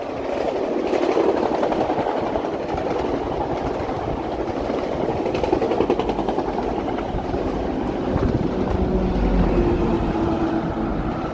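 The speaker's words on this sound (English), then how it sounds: "Yeah, another train." A train passes a city street area in Toronto's east end in the evening, giving a steady, loud rumble and rattle with faint rhythmic clatter that holds throughout and swells slightly toward the end.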